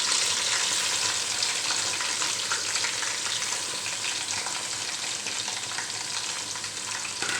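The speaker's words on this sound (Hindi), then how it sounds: "तेल गर्म हो गया है। बिस्मिल्लाह। अदरक लहसुन भी डाल देंगे।" Ginger and garlic fry in hot oil for haleem, giving a loud, continuous crackling sizzle with stirring noises, close up and without talk.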